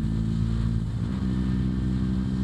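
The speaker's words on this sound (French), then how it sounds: "j'ai fait le test sur la moto en réduisant la vitesse, j'ai monté les rapports et elle est partie" A BMW R 1300 GS Adventure motorcycle with automatic gearbox accelerates, its engine droning loud and close with a brief dip and rising pitch as it shifts up a gear.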